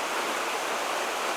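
Fast, high-running stream water rushes in a steady, dense roar, loud and unbroken throughout with no voices.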